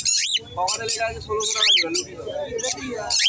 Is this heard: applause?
no